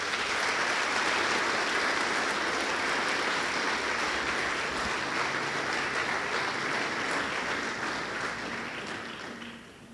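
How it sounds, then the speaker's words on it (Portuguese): A church congregation applauds steadily, a dense sustained wash of clapping that continues for several seconds before gradually thinning out at the end. "Vamos aplaudir o Senhor, irmãos?"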